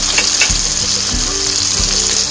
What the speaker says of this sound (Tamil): கொஞ்சம் உப்பு போட்டு எல்லாத்தையும் நல்லா வதக்கிறேன்